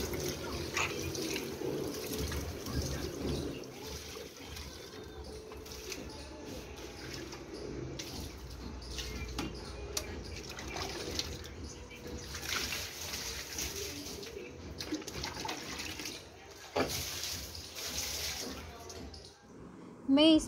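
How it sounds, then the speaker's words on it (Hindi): RO water purifier waste water is poured onto potted balcony plants, giving a continuous soft splashing and trickling that lasts throughout, with a louder splash near the end. "ये आरओ का एग्जॉस्ट वाटर है, इसको मैं पेड़ों में डालूँगी।"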